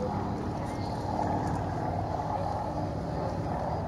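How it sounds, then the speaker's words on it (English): Continuous broadband drone of an Antonov AN-2 biplane's 1,000 horsepower radial engine on its final display pass, steady and fairly loud at an air show, with a commentator talking over it. "And that, I think, is the AN2's final run."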